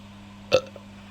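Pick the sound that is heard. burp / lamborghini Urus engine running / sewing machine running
burp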